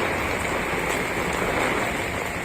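Torrential rain in Nainital, more than 150 mm within a day, with floodwater rushing along the roads. A steady, dense roar of falling rain and running water fills the whole stretch at constant loudness, with no voices.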